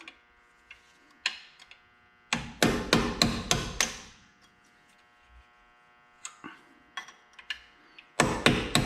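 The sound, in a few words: hammering out brake caliper pins on a Camaro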